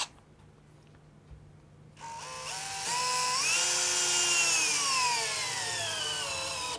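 Whirring power drill driving a screw into a wall stud, starting after a quiet moment, its motor pitch rising and straining as the screw bites, sustained and close.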